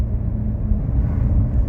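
A Chevrolet Corvette C7 Grand Sport engine rumbles steadily and low from inside the car as it pulls up to a gate on a coastal drive, with a constant loud drone and no pauses.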